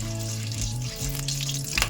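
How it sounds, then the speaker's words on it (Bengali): Whole spices, bay leaf, cinnamon, cardamom and cloves, frying in hot oil for a chicken curry, giving a steady soft sizzle with a brief stirring scrape near the end, no talking. "এটাকে একটু ভেজে নেবো"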